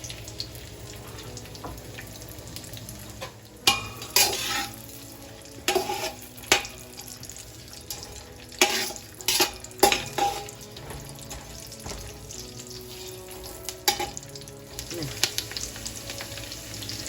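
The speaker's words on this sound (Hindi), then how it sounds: "अब मैं इसमें डाल दूंगी ड्राई फ्रूट्स" Raisins, almonds, cashews and coconut frying in a pan give a soft, continuous sizzle, broken by a string of sharper clinks and scrapes from stirring, with no talk.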